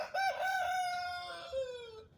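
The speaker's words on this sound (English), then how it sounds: "I'm being surrounded by roosters" A single rooster crows one long, drawn-out call, loud and close, its pitch sliding down toward the end.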